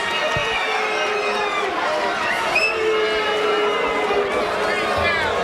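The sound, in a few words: boxing crowd reacting to the decision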